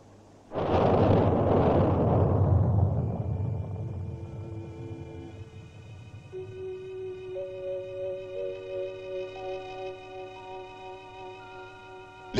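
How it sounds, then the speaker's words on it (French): A French megaton thermonuclear bomb detonates at Mururoa atoll in French Polynesia, a sudden loud blast that swells into a heavy rolling rumble. The rumble slowly fades under sustained musical tones. "L'explosion d'une deuxième bombe de puissance mégatonique confirma les excellents résultats obtenus par le premier engin thermonucléaire français."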